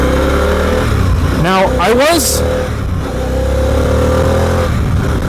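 A 2021 Harley-Davidson Pan America Special motorcycle engine hums steadily while riding, with a brief rising rev in the middle, loud and continuous beneath someone talking.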